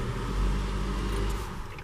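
A 2014 Mitsubishi Outlander Sport SE engine idles steadily up close, a continuous low rumble with a slight swell early on, with no one speaking over it.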